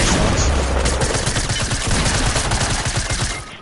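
Rapid automatic gunfire in the battle royale game Fortnite, a loud sustained fusillade of closely spaced shots that rattles on for several seconds before tapering off.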